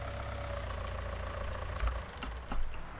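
A John Deere 6M tractor engine in Farming Simulator 19 runs steadily with a low, droning rumble, with slight swells in loudness and no talk.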